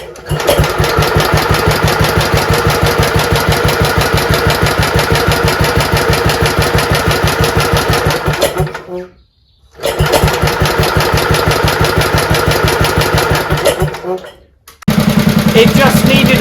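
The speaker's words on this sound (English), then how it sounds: "this seems to start really nicely on tickover, so that is good." Small engine on a Bolens Ride-a-matic riding mower running loud and close with a rapid steady chug, cutting out twice briefly and then picking up again.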